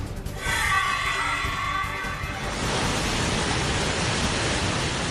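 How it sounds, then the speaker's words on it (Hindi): Chitrakoot Falls in Bastar roars after heavy rain, a dense broadband rush of falling water that holds steady and loud throughout; an earlier brighter layer gives way to an even wall of noise partway through. "पानी की गर्जना इतनी है कि 3 किलोमीटर दूर तक इसका शोर सुनने को मिल रहा है।"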